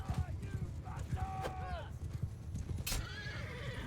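A horse in Mount and Blade II: Bannerlord whinnies several times over rapid, steady clip-clop of hooves in a hectic game battle, with a voice speaking over part of it.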